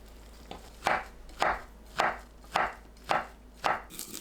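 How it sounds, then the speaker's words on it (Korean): A knife chops cooled thin egg omelette into strips on a cutting board, six evenly spaced crisp knocks about half a second apart, close and clear with no talking. "한 김 식은 계란지단을 채 썰어주세요."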